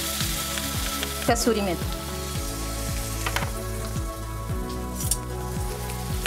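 Vegetables with garlic, green chilli paste, pav bhaji masala, coriander and kasuri methi fry in butter for Mumbai street-style pav bhaji, a steady close sizzle with a brief scraping stir near the start and a voice naming ingredients.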